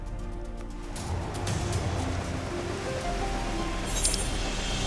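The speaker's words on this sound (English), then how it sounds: "Oh, it's so raining over here." Steady rain falls in the video game Final Fantasy XIV, a constant hissing wash with faint clinks and drips, a low hum underneath and a brief brighter splash near the end.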